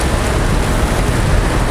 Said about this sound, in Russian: Дождик, еще раз дождик.